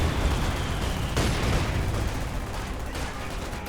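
Panzer Fusiliers firing rifle volleys in Company of Heroes 2, set in a dense, continuous wash of battle noise with overlapping gunfire and rumbling explosions throughout, no clear pauses.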